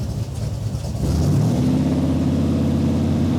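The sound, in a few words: Shelby Cobra engine revving around 2,000 RPM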